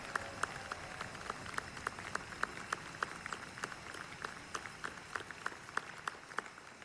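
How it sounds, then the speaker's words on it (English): A commencement audience applauds with a steady rippling patter of many hands clapping at once, heard from a distance and fairly faint, with no voices over it. "let's give that group of volunteers a big round of applause"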